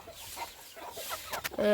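A chicken clucks in short soft bursts nearby, followed by a couple of sharper squawks at the end.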